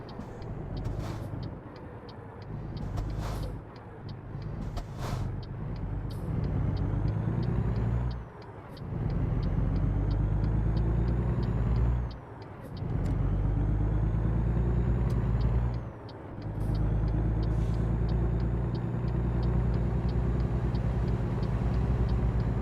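Truck engine in American Truck Simulator, a loud steady low drone with rumbling harmonics and gear shifts that briefly dip the sound, plus a rapid ticking turn signal running over it throughout.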